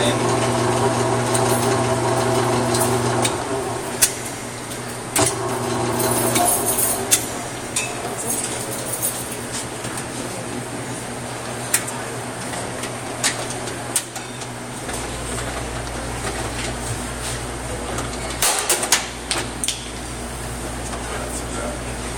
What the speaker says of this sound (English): So all the machine is this blade that spins, and this drum freezes.